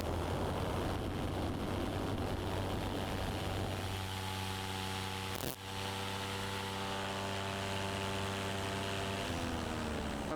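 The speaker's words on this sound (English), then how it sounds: "Engine's feeling like it's gonna die. I better keep a little gas on it." A paramotor engine drones in flight with a steady buzzing hum and tonal whine, while wind noise blows across the mic and a brief thump breaks in near the middle.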